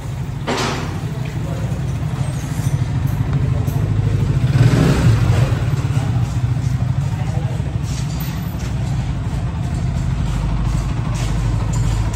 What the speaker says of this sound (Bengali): বাইকটা চলে আসতেছে।